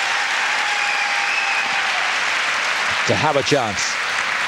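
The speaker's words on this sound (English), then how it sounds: "Good to hear the Italians applauding them" An arena audience of Italian spectators applauds figure skaters at the World Championships, sustained, even clapping from a distance, with a voice briefly speaking over it near the end.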